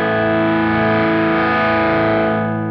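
Electric guitar through a DOD OD250 overdrive pedal, a sustained distorted chord ringing loudly on its own, fizzy and bright, slowly fading at the end.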